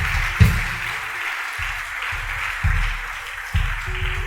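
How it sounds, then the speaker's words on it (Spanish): A church congregation claps during a sermon, a steady spread of hand claps with a few louder bursts over a low rhythmic background, fairly close and loud. "Dele un aplauso al Señor si lo está creyendo."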